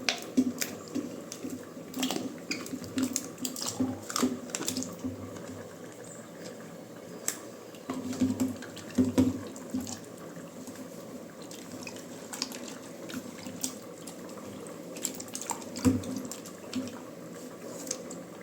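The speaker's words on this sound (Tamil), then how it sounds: "அதை வந்து நம்ம தண்ணியில் போட்டு வாஷ் பண்ணிக்கலாம்." Water sloshing and dripping as dates are rinsed by hand in water, with scattered small splashes and clicks over a steady watery background.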